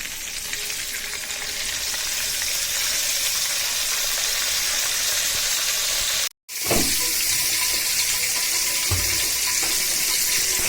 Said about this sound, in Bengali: এদিকে আমি মাছের মাথাটা একটু হালকা হলুদ আর লবণ দিয়ে মেখে নিছি, এবার একটু ভেজে নিব তেলে